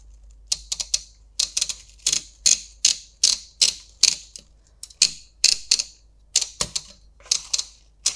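A typewriter types on patterned paper for a junk journal, its keys striking sharp and close in irregular bursts of clacks separated by brief pauses.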